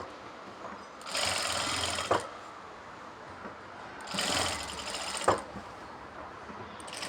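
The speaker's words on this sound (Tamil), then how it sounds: "இப்போ அந்த நூலை நான் அடிச்சுக்கிறேன், பக்கத்து நூல்." A sewing machine runs close by while stitching a kurti seam, in two steady runs of about a second each, each ending with a sharp clack, and a quieter pause between them.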